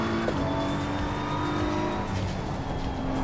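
BMW M4 GT3 race car in a racing video game at Barcelona, engine droning steadily at high revs with a constant, loud mechanical roar throughout.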